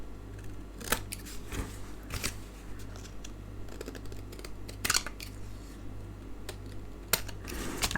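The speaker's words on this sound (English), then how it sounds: "Let's trim off the excess pieces." Scissors trim excess paper pieces off a handmade card, giving a series of sharp, close snips spread irregularly over a low steady background hum.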